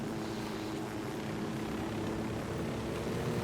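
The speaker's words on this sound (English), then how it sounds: "Dude, hop in a helicopter." Helicopter in the video game Ghost Recon Wildlands, a steady, loud rotor and engine drone that holds evenly throughout with no voices.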